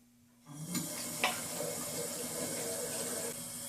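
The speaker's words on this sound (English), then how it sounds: "Beautiful seltzer being made right now." Homemade seltzer from a soda system carbonated at about 80 psi pours in a steady broad hiss of rushing liquid that begins abruptly and continues without pause, close and fairly loud.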